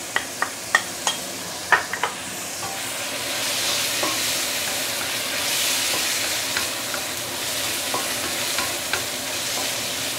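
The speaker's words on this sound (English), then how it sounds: "So this is after about 2 minutes sauteing under medium high heat" Curry paste ingredients sauté in a pan over medium-high heat with a steady loud sizzle, and sharp utensil taps and scrapes come close by in the first seconds, then again later.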